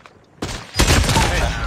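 In the mobile shooter game Call of Duty Mobile, the bolt-action SP-R 208 sniper rifle fires two loud, booming shots in quick succession, each with a sustained echoing tail.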